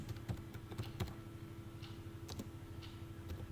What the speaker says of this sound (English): Now here in the comment box, you type